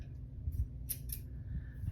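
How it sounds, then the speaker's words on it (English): Grooming scissors cutting a dog's hair make two quick, crisp snips close by over a low, steady background hum, with no talking. "We'll be using these scissors"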